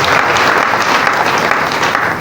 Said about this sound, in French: Est-ce que tu peux acclamer Dieu?